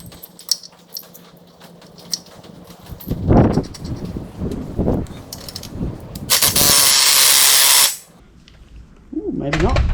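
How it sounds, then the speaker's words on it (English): Puller working a flange off a Landcruiser front differential during a diff rebuild: clanks and grinding tool strokes, then a loud, steady two-second burst of harsh mechanical noise, with a voice speaking near the end. "Stick a puller on that and we'll pull this flange off"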